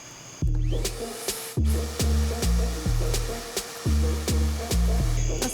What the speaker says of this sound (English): So I'm gonna vacuum the whole thing